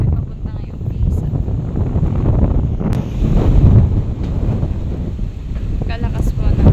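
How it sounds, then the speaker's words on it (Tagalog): Strong wind buffets the microphone beside the water at a seaside resort with damaged cottages and floating platforms, a constant low rumbling roar with gusts swelling midway and faint surf underneath, no one talking. "Kalakas po ng hangin na."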